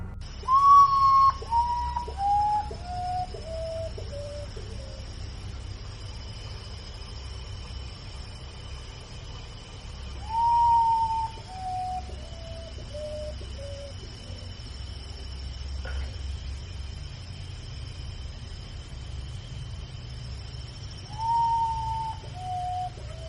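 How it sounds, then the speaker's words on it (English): A long, high whistle slides downward in stepped notes, repeating three times with pauses, over a low steady hum in a quiet setting. "he starts hearing a whistle, a strange sound, long, echoing through the silence"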